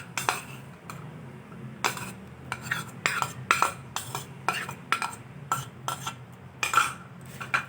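Fruit cake batter being stirred and mixed by hand in a bowl, a steady series of sharp spoon scrapes and clinks against the sides, evenly spaced and fairly close, with no talking.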